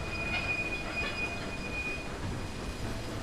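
A train rolls along the rails in the Railway Empire video game, a steady broadband rumble with a thin wheel squeal running above it, continuous and fairly close, with no voices.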